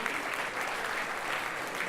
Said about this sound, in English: can we just begin by having a massive round of applause for the music we've seen tonight?